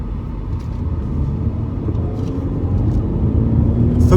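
BMW E46 316i Compact on the move, a steady low engine and road rumble heard from inside, continuous and moderately loud with no talking.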